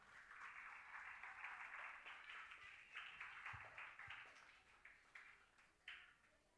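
A crowd of children claps hands together at a church children's rally in Adoni, a dense, steady patter of many hands that thins into a few scattered claps and louder single smacks near the end.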